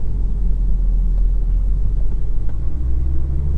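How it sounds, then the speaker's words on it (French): A 2001 BMW 730d diesel engine drones from inside the cabin, a loud, steady low rumble with constant road and engine hum throughout and no talking. "Malgré le fait qu'on entende un petit peu le moteur"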